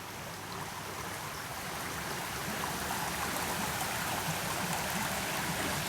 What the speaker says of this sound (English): There's the water. You can hear it flowing very strongly.